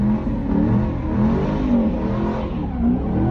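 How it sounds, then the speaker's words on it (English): Car engines revving continuously as vehicles do donuts in the middle of a city intersection at Patterson and Libby Avenues in Richmond's West End, early Sunday morning, with a crowd watching; a steady, loud roar with no talk. "Crowds of people gathered watching cars doing donuts in the middle of the intersection"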